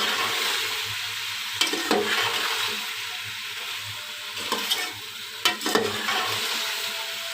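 Spices for vegetable pulao frying in a pan, a continuous loud sizzle with a few sharp stirring scrapes and clinks near the end.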